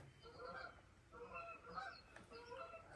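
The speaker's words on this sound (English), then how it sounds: "Hear them geese?" Geese honk repeatedly in the distance near a pond in Mississippi, a flock calling back and forth in faint, overlapping bursts.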